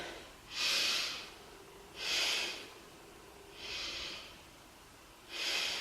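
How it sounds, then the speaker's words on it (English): Slow, deep belly breaths during a yoga session: four long, soft airy exhalations at an even, unhurried rhythm with quiet pauses between them, close and fairly faint. "Take 3 breaths into the belly."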